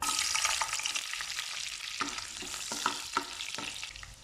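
Garlic sizzles in a hot pan for chicken afritada, a steady close crackle of frying with occasional stirring scrapes and clicks.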